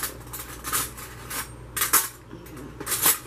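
A metal spoon scrapes and clinks against a container in several short, bright bursts while a filling is scooped out for a no-bake peanut butter pie, close and fairly quiet.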